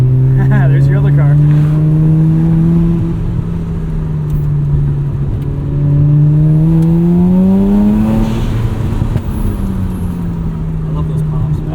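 A 1994 Mazda RX-7 turbo engine revs loudly from inside the car, rising and falling through several throttle sweeps, with exhaust pops crackling as it lets off.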